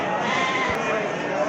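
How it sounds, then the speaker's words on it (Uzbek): Lambs bleat at a livestock market, a loud close bleat under a steady crowd murmur and people talking nearby. "Mana qo'zilar."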